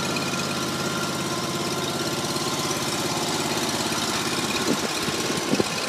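Engine on a large homemade hydraulic wood splitter with auto-cycle valve, running steadily at close range with a fast rhythmic knocking pulse, and a few brief clunks near the end.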